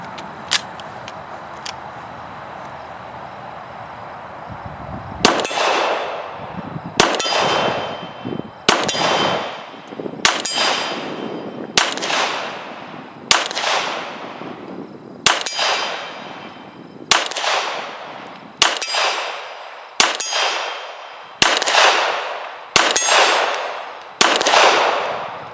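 A CZ P-10C pistol fires about fourteen loud shots at a steel target 50 yards away. Each hit rings with a bright metallic clang that fades before the next, in a steady, evenly spaced rhythm, with no talking.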